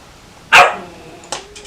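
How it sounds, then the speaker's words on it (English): A puppy barks in the background, one loud sharp bark followed by a softer second yelp a moment later. "My daughter had to take the puppy for me, so we don't hear the barking in the background."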